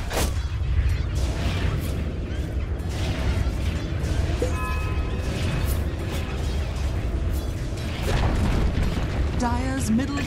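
A Dota 2 tower comes under attack and is destroyed, with dense in-game combat booms, crashes and bursts running continuously, plus brief tonal game alert sounds.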